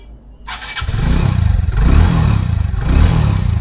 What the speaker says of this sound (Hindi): बाइक को स्टार्ट करते हैं।